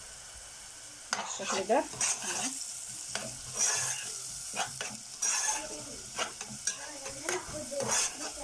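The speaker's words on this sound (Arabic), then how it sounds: "سبع بهارات. هنديهم تشويحة كده مع بعض" Onion sautéing with seven-spice mix in a pan, repeated stirring scrapes and clatter over a steady sizzle, with a brief spoken remark.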